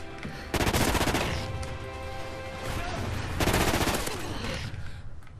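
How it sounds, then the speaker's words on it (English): Rapid automatic gunfire in a first-person shooter game, two loud sustained bursts of dense shots with continuous game noise filling the gaps between them. "I'm getting shot at."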